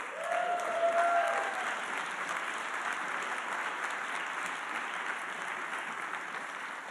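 Warm, sustained applause from an audience welcoming a speaker at an event, a dense steady clapping that swells at first and then holds evenly.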